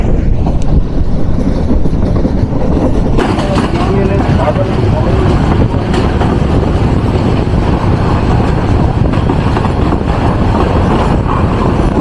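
The Titas Commuter 35 train, ridden on its roof through Bangladesh, gives a loud continuous roar of wheels on rails buffeted by heavy wind, steady throughout.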